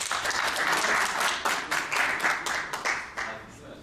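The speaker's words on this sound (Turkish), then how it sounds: "muhalefetimizin kaptanına kocaman bir alkışla başlıyoruz" An audience at a debate tournament applauds the opposition team's captain with brisk, fairly close clapping that thins into a few separate claps toward the end, with faint voices mixed in.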